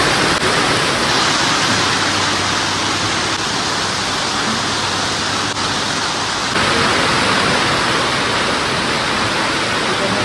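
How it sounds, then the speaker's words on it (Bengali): Torrential rain drums without pause on the mountain footpath on the Kedarnath trek, a loud, unbroken wash of noise that stays close and constant throughout. "মারাত্মক বৃষ্টি হচ্ছে"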